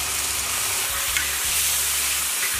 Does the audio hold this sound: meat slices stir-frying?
yes